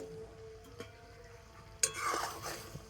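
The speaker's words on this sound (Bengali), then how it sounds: "মিষ্টিগুলোকে চিনির শিরার মধ্যে 2-1 মিনিট এইভাবে ফুটিয়ে নেব" Sweets simmer in hot sugar syrup in a pan while a utensil stirs them. There are a couple of soft scrapes, then a sudden louder clatter and a bubbling, sizzling stir close up, with no talking.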